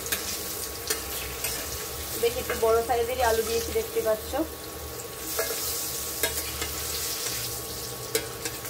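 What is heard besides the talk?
potatoes frying in oil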